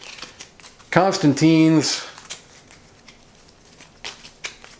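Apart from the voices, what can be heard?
shuffling board game cards into a draw deck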